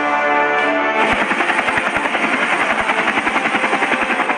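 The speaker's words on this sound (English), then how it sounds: "Helicopter is waiting to transfer us from the shore to the rig" A helicopter waiting onshore to fly to an offshore drilling rig near Mumbai, close by with a loud, rapid rotor thump over a steady turbine roar, growing stronger after the first second.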